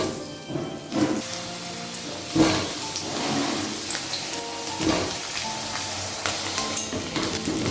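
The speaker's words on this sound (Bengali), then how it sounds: "প্রথমে আলুগুলো ভেজে নিচ্ছি।" Potato pieces fry in hot oil for a potol chingri dish, giving a continuous crackling sizzle with several louder bursts of spatter and occasional clinks, heard close up with no talking.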